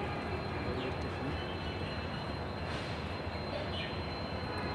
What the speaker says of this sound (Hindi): ट्रेनें यहाँ से होके जाती है।